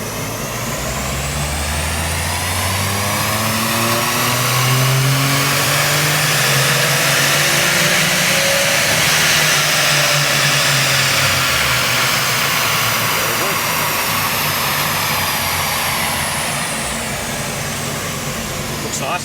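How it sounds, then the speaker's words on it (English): Turbocharged Subaru engine pulled at wide open throttle, a loud, continuous rising roar with whining harmonics that climb then level off, close and sustained throughout. "Wide open throttle,"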